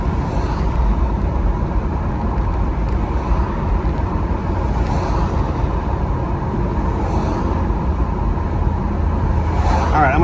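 A 1968 Firebird with a swapped-in 403 engine cruises down a road, heard as a loud, steady engine drone and road rumble from inside the car, with a voice briefly audible over it.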